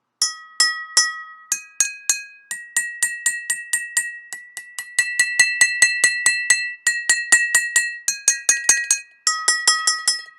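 A homemade glass xylophone of water-filled glasses struck in steady, rapid sequences, each tap a clear bell-like clink that rings briefly, with pitches shifting from note to note; close, crisp and with no voices.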